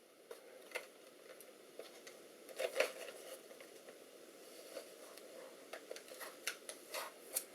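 Scissors snipping and slicing through the packaging of a new CPU box, with scattered crisp cuts and rustling of cardboard and plastic, close and fairly quiet, with no talking.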